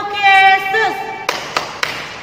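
A voice calls out the clap game's name, then children in a Sunday school clap game strike three sharp, evenly spaced claps, close and loud.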